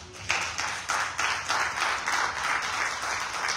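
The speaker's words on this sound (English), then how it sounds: "So let's give the Lord a hand clap of praise." A church congregation claps together in praise, loud and fairly close, a dense run of hand claps rising in waves that carries on steadily without talk.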